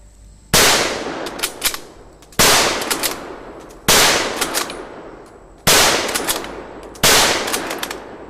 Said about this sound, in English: this can be loaded and fired extremely quickly